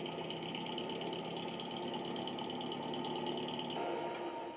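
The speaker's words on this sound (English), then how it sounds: "Well, a tractor does it." A tractor engine runs steadily nearby, a constant droning hum with a buzzing mechanical rhythm and no pause.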